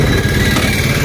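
A superbike motorcycle engine passing: a loud, steady, buzzing engine drone fills the short moment.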